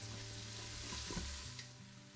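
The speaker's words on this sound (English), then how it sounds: "Saute the onions until it becomes translucent" Onions sautéing in oil in an Instant Pot, a faint, steady sizzle with a low hum underneath, brief and quiet, no talking.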